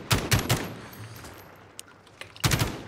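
Gunfire in the video game Call of Duty Warzone, likely from an LMG: two loud, close bursts of rapid shots, one at the start and one near the end, separated by a quieter gap.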